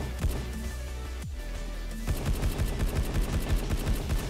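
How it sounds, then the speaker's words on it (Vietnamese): Rapid automatic gunfire from a new weapon in the shooter game Truy Kích, a short opening burst, then a brief pause and a long continuous stream of fast, loud shots. "21 viên mà nó bắn cái tốc độ xả đạn của nó cực nhanh luôn"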